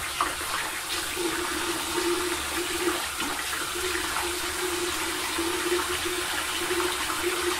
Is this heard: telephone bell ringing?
no